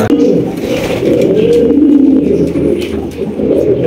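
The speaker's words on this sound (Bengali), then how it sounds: "বাংলাদেশের রয়্যাল বেঙ্গল টাইগার, টাইগার কালারের বিউটি কবুতর।" Pigeons coo steadily and close by, a continuous low murmuring chorus from tiger-colored beauty pigeons, a fancy Bangladeshi breed kept in a loft, with faint background noise and no clear talk.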